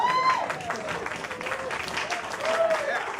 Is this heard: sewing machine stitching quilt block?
no